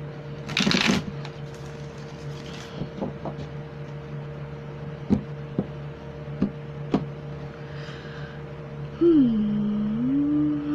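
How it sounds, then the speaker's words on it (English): Playing cards shuffled for a tarot-style reading, with soft riffling at the start and scattered light taps and card slaps over a steady background hum, close and fairly quiet, ending in a brief tonal whine. "Sorry, I'm still shuffling."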